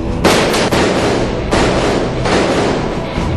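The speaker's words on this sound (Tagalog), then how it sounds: "Nagpuputok ng baril yun, ah!" Gunfire in a tense chase scene: several loud, sharp bursts with booming thuds crack out close by at about one-second intervals, with no talking in between.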